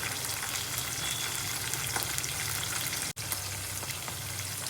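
Continuous oil frying for a murrel fish tamarind curry with okra, an even hissing crackle throughout with a brief dropout partway, close and steady, no voices heard.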